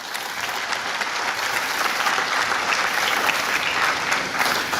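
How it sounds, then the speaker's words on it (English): Sustained audience applause at a university inauguration ceremony, a dense even wash of many hands clapping that holds steady throughout, with no voices on top. "big round of applause for everyone"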